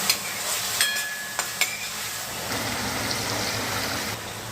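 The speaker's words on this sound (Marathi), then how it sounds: "पुन्हा आपण परतून घेऊया हे सगळं." Tomatoes and peas sizzle in a pan for rice rava upma, with a steady frying hiss and a few sharp spoon clinks against the metal as they are stirred, close and without talking.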